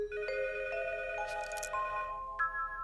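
Home telephone rings with a tonal electronic melody, stepping through several sustained pitched notes with a brief buzzy burst in the middle, clear and moderately loud, no talking.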